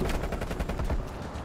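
Rapid automatic gunfire from the video game Call of Duty: Black Ops Cold War, a steady burst of close, loud shots that runs without a break for the whole moment.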